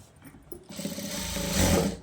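Sewing machine stitching folded fabric, a few quiet taps before the motor starts, then a steady whirring drone that builds in loudness and ends abruptly, with no voices.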